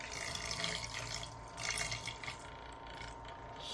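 Homemade magnetic stir plate driven by a 12 volt motor at low voltage, swirling water in a vessel with a soft continuous watery trickle over a faint motor hum, close and quiet.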